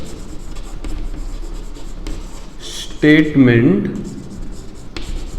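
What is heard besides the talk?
teacher writing on a board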